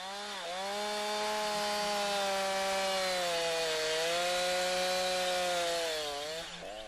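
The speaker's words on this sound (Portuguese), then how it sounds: "Serre devagar à volta do tronco." A chainsaw cuts steadily into a tree trunk during felling: a loud, sustained engine whine that dips in pitch as the blade bites, with no talk.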